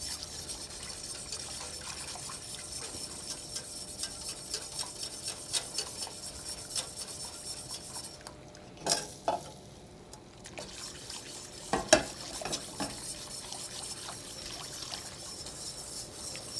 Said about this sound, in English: we're going to go ahead and add our roux to our warm stock, and we will start to thicken it